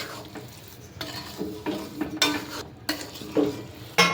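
Gundar paak mixture is stirred in a pan with the flame switched off. A spoon scrapes and clinks against the metal in uneven bursts, separated by short quiet gaps.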